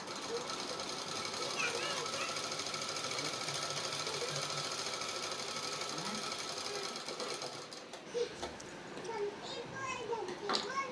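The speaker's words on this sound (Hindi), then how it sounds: "और एक सिलाई इसके ऊपर भी लगा लेंगे।" Sewing machine stitching a baby suit, running steadily for about eight seconds with a busy whirring hum, then stopping and starting in short bursts while children play and chatter in the background.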